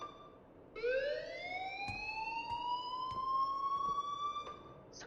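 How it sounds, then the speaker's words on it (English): An alarm in the video game Life is Strange rises into a sustained, piercing electronic wail with strong harmonics, sounding loud and continuous over a low background for several seconds. "please turn off that alarm since that's your job."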